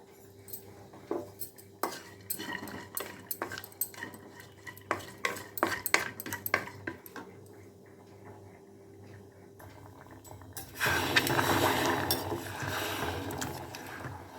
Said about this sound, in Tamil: வெல்லம் இங்கே கொதிச்சுட்டுருக்கு